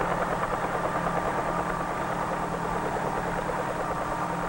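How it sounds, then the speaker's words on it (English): A 1950s-era helicopter's rotor blades and engine drone on continuously, a steady, loud whirring hum with a faint rhythmic beat of the blades and no speech. "When the blades move fast enough, they provide the lift necessary to raise the helicopter off the ground and permit it to hover."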